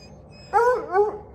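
A tired hunting hound on a bear hunt in the Appalachian Mountains lets out two short, whiny whimpers close by. The surroundings are otherwise quiet.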